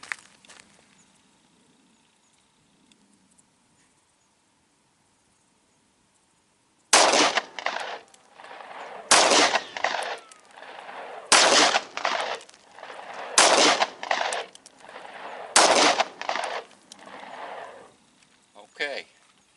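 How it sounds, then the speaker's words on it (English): Five sharp gunshots from an M&P 9 Shield pistol firing 115 grain full metal jacket 9mm hand loads, spaced about two seconds apart, loud and close after several seconds of near silence. "We're going to shoot a baseline group to see accuracy"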